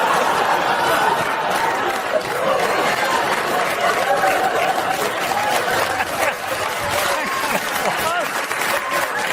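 A studio audience applauds in a continuous wash of clapping, mixed with scattered chuckles and murmured chatter, while a voice talks over it.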